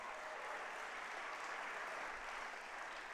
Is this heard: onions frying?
no